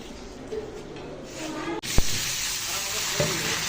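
Oil and onion frying in a pot for khichuri, a soft sizzle that turns louder partway through, with a couple of sharp clanks and a voice speaking over it.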